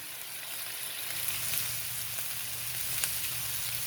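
Zucchini and squash sizzle steadily in a hot skillet on a stovetop, a continuous moderate hiss with faint occasional pops, heard close with no talking.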